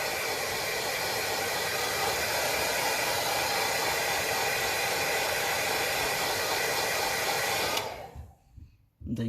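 A hair dryer blows steadily and loud on a 2008 Vauxhall Astra H Mk5 badge to soften it for removal, a constant broadband rush that cuts off abruptly near the end, leaving near silence.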